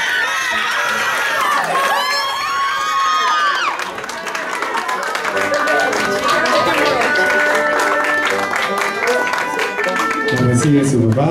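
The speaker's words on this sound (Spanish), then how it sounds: "Los aplausos fuerte para Grecia." Loud applause, cheering and whoops from a crowd at a quinceañera party for Grecia, with a voice over the noise and music-like tones, continuing throughout.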